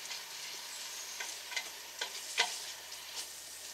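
Drained canned sauerkraut sautés in a pan with a soft, steady sizzle, punctuated by a few close stirring scrapes and taps.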